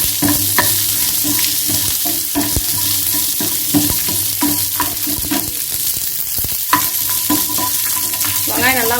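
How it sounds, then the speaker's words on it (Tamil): Onions sizzle steadily in a hot pan, with occasional scraping stirs and clinks throughout, close and continuous. "வெங்காயம் நல்லா வதங்கட்டும்."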